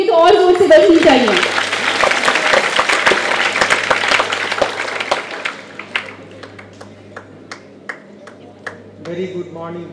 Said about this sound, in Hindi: तालियां तो इनके लिए तो और जोर से बजनी चाहिए